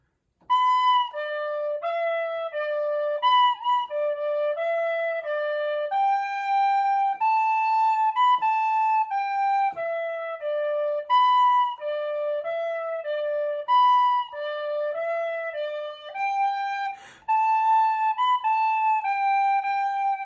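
A tin whistle plays the Kerry Polka at a slow, steady pace, clear and solo, with short gaps between phrases.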